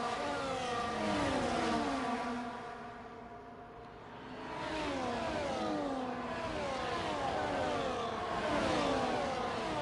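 Race cars at the Spa circuit roar past in a continuous engine drone, revs rising and falling steadily as the pack streams by, loud and close with no voices.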